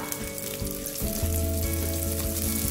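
Small shallots and a couple of garlic cloves sizzle steadily in hot oil, a dense, close frying hiss that carries on without a break, with a faint hum underneath.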